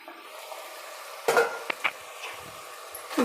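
Lentils (dal) dropped into hot tempering oil for a Kannada-style hitikida bele saru, giving a low sizzling hiss with a sudden louder burst of frying and a few clinks of a spoon against the pan.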